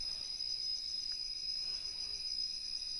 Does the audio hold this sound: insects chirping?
yes